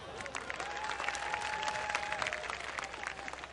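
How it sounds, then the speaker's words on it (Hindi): A comedy show audience claps along at a laughter artist's prompt, producing a dense, continuous round of applause that stays even in level, heard moderately distant throughout. "मजा हो रहा हो तो मेरी श्रद्धांजलि में तालियां हो जाएं"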